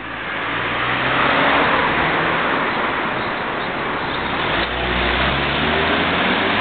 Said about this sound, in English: All this traffic.